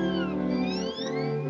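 A cartoon cat from a 1941 farm animation gives a drawn-out, wavering meow, a clear tonal cry lasting over a second over a sustained musical background.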